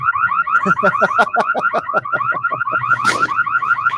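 A car alarm blares loudly and close, cycling through rapid repeating warbling siren tones with a sharper burst partway through, no talking over it.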